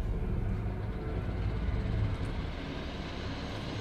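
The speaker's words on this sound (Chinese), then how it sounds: "所以就出动吧， 我的直升机" A helicopter is sent out in the game Jurassic World Evolution, giving a faint, steady rumbling drone with no talk over it.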